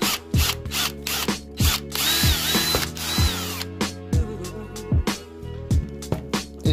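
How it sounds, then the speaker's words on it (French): A power drill bores through a watermelon in several whirring bursts, with one longer sustained run in the middle while the bit chews through the rind and flesh, close and loud. "Pour ceci, il faut la perceuse. Et tu passes de part en part."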